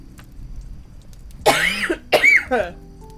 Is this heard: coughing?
yes